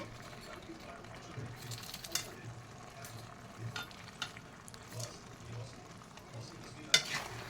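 Chicken sautéing in masala sizzles faintly in a pan, with scattered stirring scrapes and a few sharp clinks.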